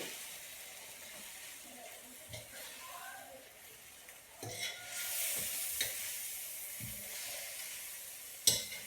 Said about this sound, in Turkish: Ve karıştırıyorum.